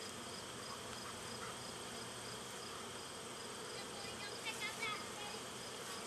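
Bees from a strong backyard hive buzz in a dense, steady drone, close and continuous, with individual bees whining past nearby toward the end.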